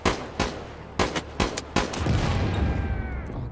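Battle sounds in the video game World War 3: a run of sharp, loud blasts at irregular intervals, then a deep rumbling explosion that swells and lingers.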